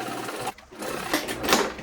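A sewing machine bastes fabric onto zipper tape in a short burst of rapid mechanical stitching, close and clear, with a brief pause before the needle runs again.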